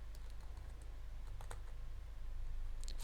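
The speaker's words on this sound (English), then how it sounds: "I can also type in this URI to reach it." Keystrokes on a computer keyboard as a URI is entered, faint scattered clicks over a steady room hum.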